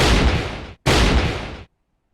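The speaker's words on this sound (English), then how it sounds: "That sounded like a gunshot." Two loud gunshots from the Fate/Grand Order game, the Witches on the Holy Night event, fired close together in quick succession, each a sharp broadband blast that trails off briefly, followed by silence.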